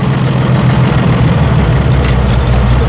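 Massey Harris 102 tractor engine idling a little low on its first run in ten years, a loud, steady low rumble close by with no talk.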